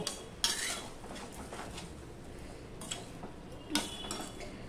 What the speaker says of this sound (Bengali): নুনের সাথে আমি হলুদের সাথে আমি সম্পূর্ণটা আমি মিশিয়ে নেব